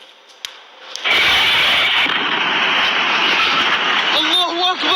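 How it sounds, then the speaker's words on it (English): Airplane flying overhead before a crash, rising into a loud sustained roar that washes over the scene, with excited shouting voices near the end. "There's a plane, bro! That's a plane!"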